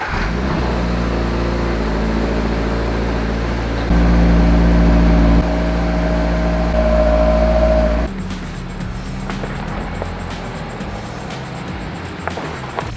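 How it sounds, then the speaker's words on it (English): A stock 2022 Subaru BRZ engine cold-starts and settles into a steady, fairly quiet idle. The note swells briefly partway through, then drops to a softer, lower hum for the remaining seconds, with no talk over it. "let's get a nice cold start for the boys on the new BRZ"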